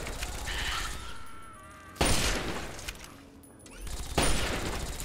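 Bursts of gunfire crack out in Fallout 3, two loud volleys about two seconds apart with quieter game ambience and faint tones between them.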